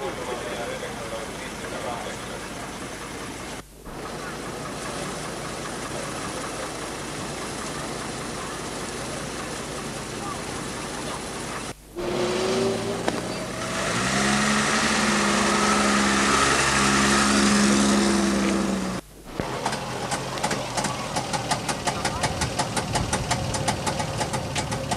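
Several old cars from 1978 idle and run at the start of a rally, a steady close engine drone that grows louder and rougher midway, with speech over parts of it.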